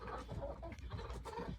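A rooster on night guard in the evening gives a few low, throaty clucks and grumbles, close by, with quiet farmyard ambience around them.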